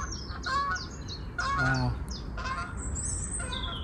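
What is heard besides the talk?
low-flying geese honking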